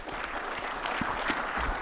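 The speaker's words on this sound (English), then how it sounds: "Please give them a warm round of applause." An audience claps at a security conference talk, a brief burst of dense, steady applause from a crowd, heard a little distant and without speech.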